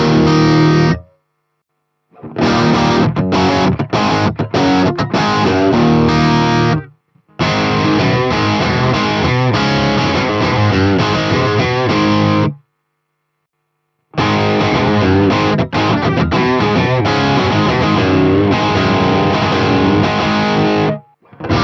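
An electric guitar played through a BOSS IR-200 amp and impulse-response pedal rings out in loud, distorted riffs, with bursts of chords and single notes broken by short silences.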